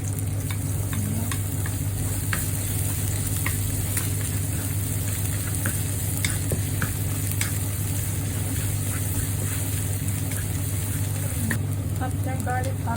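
Garlic and pork frying together in a pan give a constant dense sizzle with occasional stirring clinks, over a steady low hum throughout.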